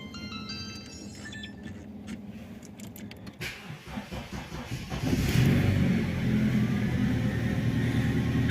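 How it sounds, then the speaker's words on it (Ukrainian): An Opel Vectra B's newly reinstalled starter cranks with a rapid whirring churn, then the engine catches and settles into a steady idle. "шум стартера став зовсім інший"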